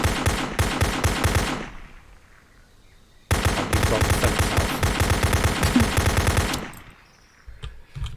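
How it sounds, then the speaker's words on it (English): Enemy gunfire in a simple GameGuru Max shooter game: two loud bursts of rapid automatic fire, the first short and the second longer, separated by a quiet gap, with no talking over them. "the generic enemy B isn't coming for us, but can at least shoot at us"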